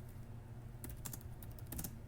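Computer keyboard typing while entering router configuration commands, a short burst of quick clicking keystrokes over a low steady hum, with no talking.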